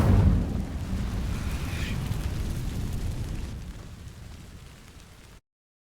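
A fire spell (Incendio) cast in a Harry Potter video game erupts with a loud whooshing burst up front, then a roaring crackle that slowly fades away, with no talking.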